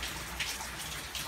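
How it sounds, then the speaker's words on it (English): Steady patter of rain with occasional louder drips, a continuous wet hiss close by. "hope you can hear me over the rain"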